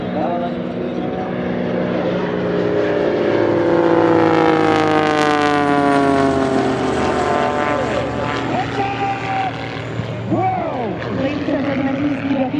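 Pitts S1-11X and Model 12 aerobatic propeller planes roar overhead at the Seoul ADEX 2017 airshow, the engine note rising and sweeping in pitch as they pass close and loud, with an announcer's voice over the public address.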